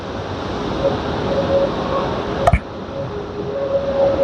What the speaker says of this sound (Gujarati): તમે ખાલી એક પાણી જોજો કેટલું જાય તો કેટલું પ્રેશર પાણી જાય તમે જોઈ શકો છો